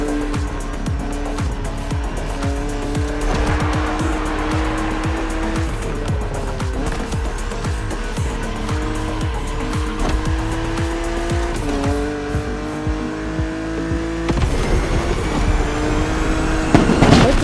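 BMW car driving in The Crew Motorfest video game, engine roaring through repeated gear changes with rising and falling revs, tire squeal and skids, loud and continuous.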